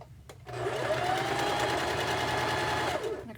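A sewing machine chain-pieces quilt blocks in a steady, fast, even run of stitching that lasts about three seconds, heard close, with no talking.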